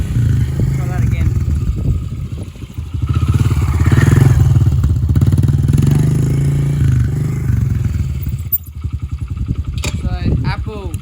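A Honda motorbike engine keeps running loud and close with an apple pushed into it, a steady throbbing drone that swells in the middle and then settles back.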